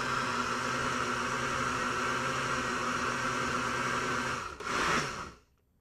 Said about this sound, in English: Put the blender on and serve this up.